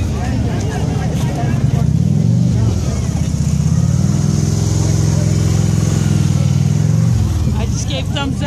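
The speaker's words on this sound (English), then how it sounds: "I just gave thumbs up to the passenger on the motorcycle." A motorcycle rumbles past nearby, its engine tone rising and then fading, while people talk over the noise.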